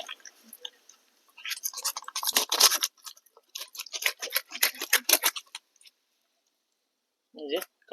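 Knife chopping through a katla fish head during Bengali-style prep, with bursts of crunchy, wet cutting and clicking close by, pausing in between, then a short final burst.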